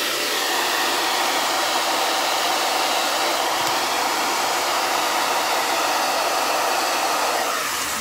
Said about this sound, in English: I take the hot blow dryer, turn it on warm, and I'll blow dry it just to calm the kink and the curl a little bit